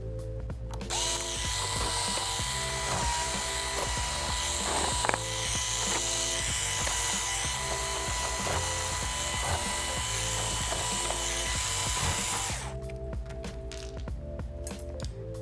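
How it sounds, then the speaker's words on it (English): An electric screwdriver whirs loudly and continuously while removing screws from the bottom cover of an Acer Chromebook C722, then stops and gives way to quieter clicks and handling noise. "So you can just flip the unit over and take the screws out of the bottom cover."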